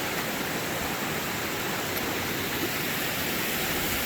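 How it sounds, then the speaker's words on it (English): A creek on the Ozark Highlands Trail runs over little rapids and waterfalls, its steady broadband rush of water continuous and fairly close, with no voices. "Lots of little rapids and waterfalls."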